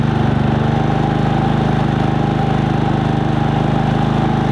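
A Harbor Freight 3500 generator converted to run on propane hums steadily at setting one, a loud, even mid-pitched engine drone with a regular pulsing rhythm, close by and uninterrupted.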